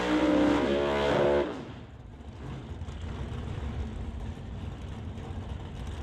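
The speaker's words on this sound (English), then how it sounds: "Devin Jansen purging the nitrous on the Nova as the supercharged Acadian gets brought into the beams." A 1970 Chevy Nova purges its nitrous at a drag race, giving a loud, steady hiss with a droning engine for over a second. A rumbling idle continues afterward.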